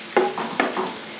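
Chopped celery drops into a pan of chili with two soft rustling thumps, followed by a gentle stirring swish over a faint low sizzle.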